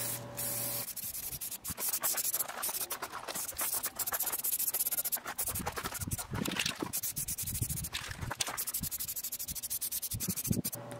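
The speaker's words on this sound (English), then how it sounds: "then I painted it with enamel black paint" Spray can or spray gun hissing out black enamel paint onto a welded metal table base, a steady close hiss broken by brief pauses and short bursts, running through most of the stretch.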